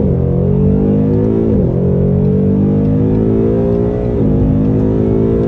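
A 2021 Camaro LT1 V8 pulls hard from first gear, its loud engine note climbing steadily in pitch with two quick dips at upshifts, heard from inside the car without talk.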